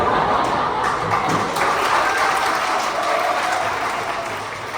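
An audience claps steadily and fairly loudly, a dense continuous patter that eases slightly toward the end, with no talking over it.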